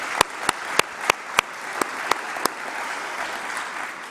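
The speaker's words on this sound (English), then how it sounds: "If we can give them all a very big clap and a thanks." A conference audience at a jobs and skills summit applauds its panellists: a bed of steady clapping with a few sharp, louder claps standing out at regular intervals, easing off toward the end, with no talking.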